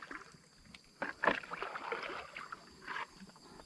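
Sharp splashy strikes as snakehead fish hit the water surface, a few irregular bursts over a soft outdoor background, fairly close.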